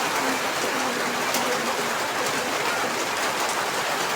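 Steady rain falls in a constant loud wash of hiss and patter on surfaces, unbroken and without voices.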